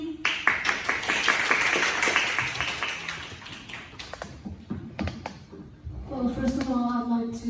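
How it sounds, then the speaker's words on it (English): Audience applause for a presenter named Thuyết at a game presentation, a burst of many hands clapping that fades out after a few seconds, with a voice talking at the end. "applause for thuyết."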